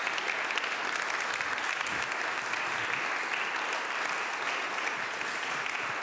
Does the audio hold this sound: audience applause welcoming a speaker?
yes